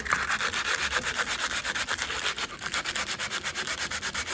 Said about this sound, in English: I'll take the 120 grit, roll it up so it kind of conforms to this shape.